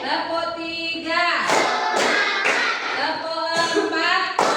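A class of children chants a rhythmic clap routine in a classroom. Their voices sing out the words, and a few sharp group claps strike in unison between phrases.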